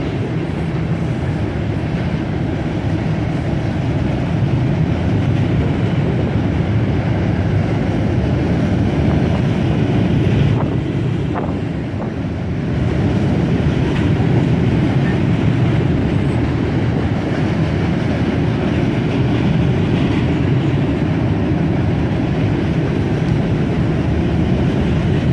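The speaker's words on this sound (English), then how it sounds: "That was the last train we caught on Sunday while we were down by the bridge." A GP30 diesel locomotive hauls a train across a bridge, a steady, loud rumble of engine and rolling cars that continues for the whole stretch, dipping briefly midway before the heavy roar resumes.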